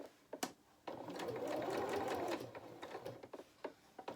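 A sewing machine stitches a fabric otter toy in a close, steady whirring run lasting about a second and a half. Scattered clicks and fabric handling come before and after it.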